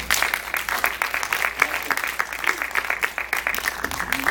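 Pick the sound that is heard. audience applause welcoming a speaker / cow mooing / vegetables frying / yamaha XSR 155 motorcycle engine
audience applause welcoming a speaker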